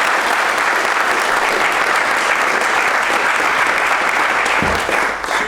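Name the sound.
applause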